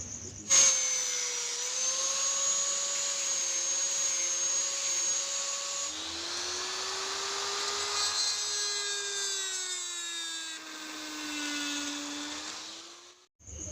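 A power drill bores a hole to mount a custom stoplamp on an old Honda Supra X motorcycle. Its steady, close, whining motor drone shifts pitch as the bit loads and eases, with no talk.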